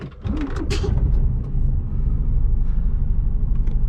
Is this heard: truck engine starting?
yes